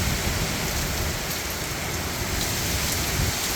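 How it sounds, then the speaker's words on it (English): Hurricane Milton brings heavy rain and wind in a steady, dense roar of downpour that pounds surfaces without pause, loud and close, with no voices. "And this is how a hurricane sounds."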